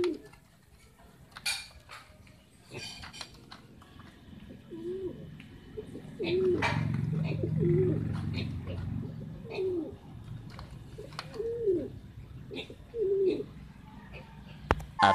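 Racing pigeons coo in repeated soft, throaty calls close by, with scattered clicks and shuffling noises in the background.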